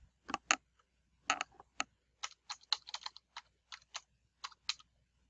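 An email address and password are being typed on a computer keyboard: quiet, close key clicks arrive in short uneven bursts with brief pauses between them, over near silence.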